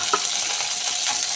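Peanuts frying in a little oil in a pan, a close, loud, even hiss of sizzling with a soft stirring knock near the start, brief and steady with no talking.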